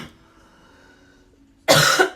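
A single loud, harsh cough bursts out near the end after a quiet stretch with a faint steady hum.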